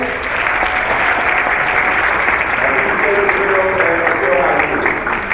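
An audience at a school district's State of the District address applauds with dense, sustained clapping that fills the whole stretch at steady loudness. Faint talk runs beneath it.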